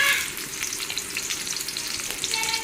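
Five-spice seeds crackle and sizzle in hot oil, a brief, close, continuous fizzing burst with faint spitting pops.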